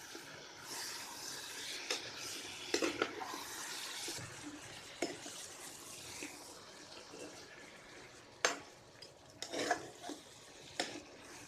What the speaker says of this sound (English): We mix the ingredients again.